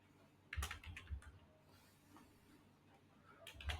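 Computer keyboard typing while setting up a chatbot assistant: a few bursts of crisp key clicks, a cluster near the start and another at the end, with quieter taps in between, close and moderately soft.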